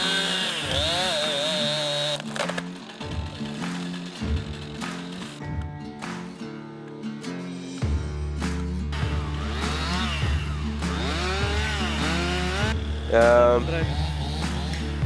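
A chainsaw cuts through highly flammable invasive trees on a mountainside, its engine buzzing and revving close by, dropping to a deep steady drone while someone talks over it.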